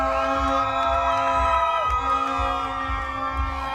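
A home crowd roars and cheers after a MotoAmerica motorcycle race win in Lodi, a loud sustained swell of voices with whoops and shouts, carried over a steady tonal background hum throughout.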